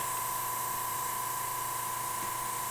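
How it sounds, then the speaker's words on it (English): Spray paint hisses onto an E-Flite F4 model airplane during custom weathering, a constant, even spray held steadily with a faint tonal whine underneath and no talking. "just take and spray on that side of the line with it"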